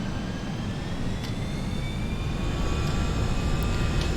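A simulated FSLabs A320 jet rolls down the runway on takeoff, its steady broadband engine roar building slightly in a flight simulator, with faint whining tones rising above the continuous rumble.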